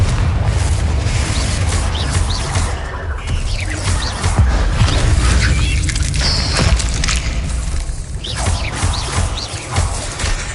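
Loud continuous crashing, booming blasts and impacts from the Confringo explosive spell in the Hogwarts Legacy video game, dense and chaotic with scattered squawking effects and no speech.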